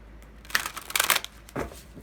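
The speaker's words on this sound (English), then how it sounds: "Doing a riffle shuffle." A deck of tarot cards is riffle shuffled, giving quick fluttering ripples of card edges in two or three short bursts, close and crisp against a quiet room.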